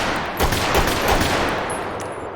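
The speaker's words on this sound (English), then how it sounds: "Do heavy pistol next." Rapid heavy pistol gunfire in GTA V on a FiveM server, a dense stream of overlapping sharp shots that runs steadily through the whole stretch, loud and close with no talking.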